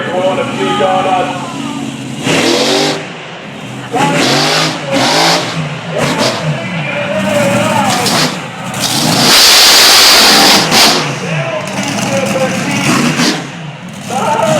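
Big engine of the Aftershock monster truck revving hard in repeated surges while it spins donuts at a Trumansburg show, loud and continuous, with crowd noise and voices mixed in underneath.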